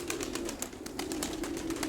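Soft, low pigeon cooing from a loft of domestic pigeons, a steady murmuring coo with faint rustling and clicks around it, fairly quiet and close, no talk.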